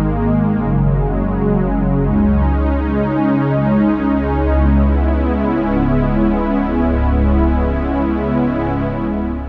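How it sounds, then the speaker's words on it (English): A Korg Kross keyboard workstation plays its Super Analog Pad preset, holding loud, lush sustained synth chords that shift smoothly from one to the next, alone with no talking. "So I've selected this nice preset. It's called Super Analog Pad. Sounds like this."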